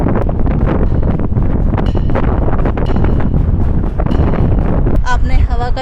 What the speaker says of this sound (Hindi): चलिए जी, आप ये शोर सुनिए हवा का।